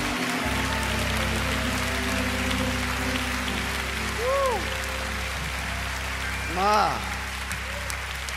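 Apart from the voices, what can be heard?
congregation hand clapping in praise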